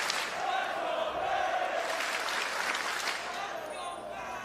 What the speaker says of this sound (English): you hear the FaZe chants starting to get going